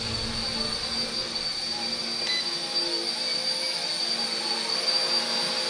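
An RC Era C032 UH-1 Huey ready-to-fly RC helicopter flying at its fastest speed setting gives a steady, loud, high whirring drone with a faint whine, continuous throughout.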